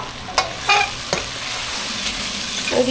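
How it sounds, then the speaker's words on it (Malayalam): Sambar masala being stirred and sautéed in a pressure cooker for sambar rice, with a few distinct spoon scrapes against the pot over a steady, soft sizzle of frying, alone without talk. "ഇതൊന്ന് വഴറ്റി കൊടുക്കാം"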